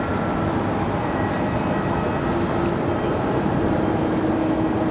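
A Republic Airways jet arriving from Chicago O'Hare at Raleigh-Durham International Airport gives a steady, loud broadband engine roar that holds evenly throughout, with a faint whine running above it.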